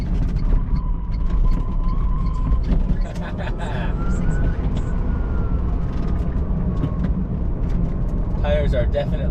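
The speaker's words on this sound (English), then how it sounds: "The wind noise from the roof is hilarious." A Tesla Roadster on fresh Yokohama tyres cruises a highway near Malibu, its loud, continuous road and wind roar rushing across the roof with faint passing tones.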